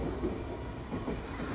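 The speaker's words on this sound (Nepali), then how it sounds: "यो ट्रेन टोकियो जान्छ" A train heads toward Tokyo in Japan, its wheels rumbling on the rails in a low, steady roll with faint rhythmic clacks, fairly quiet and without voices.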